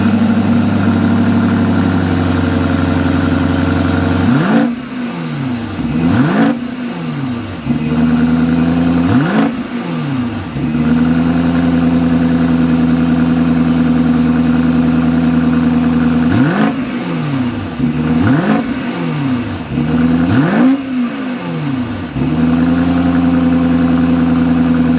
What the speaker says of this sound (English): This is a twin turbo V8. We need to go inside, start it up so you can hear that exhaust note.